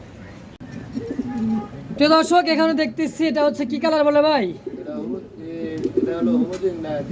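Giant homer pigeons coo softly in a pigeon-breeding loft, low murmuring calls running under a man's close, continuous talk.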